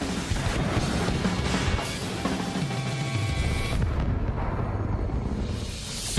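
Heavy gunfire and explosive blasts roar through an Ace Combat 7 aerial battle, a dense, continuous barrage of booming shots and crashes with no voices.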